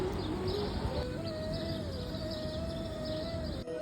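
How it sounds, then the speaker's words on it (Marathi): Sparrows chirping at 5:30 in the early morning, a steady chorus of faint, high, repeated chirps against a continuous background hum, with one tone holding steady throughout. "ते तुम्ही आवाज ऐकू शकता चिमण्यांचा"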